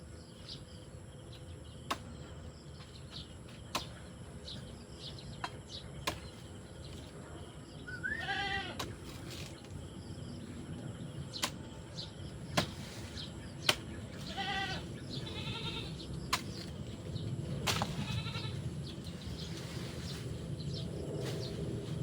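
Goats bleat a few times at a moderate distance over a quiet outdoor background of insects, with scattered small clicks and knocks.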